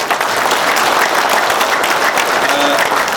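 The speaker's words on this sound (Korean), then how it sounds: "다시 한번 큰 박수 부탁드리겠습니다" A large crowd at a 2011 political rally claps in a dense, loud, steady wash of applause that lasts throughout, with no break.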